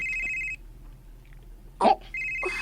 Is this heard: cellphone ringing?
yes